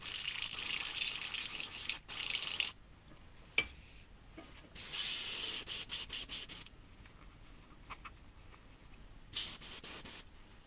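An airbrush sprays a small amount of reducer to clean out the needle after painting a 1/10 RC body shell, producing several steady hissing bursts separated by short pauses, close and clear.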